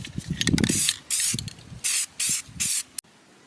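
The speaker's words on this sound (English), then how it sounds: "I'm going to spray paint it black." A spray can sprays black paint onto an engine bay part in several short hissing bursts of about half a second each, close and loud, with brief pauses and faint handling noises between them.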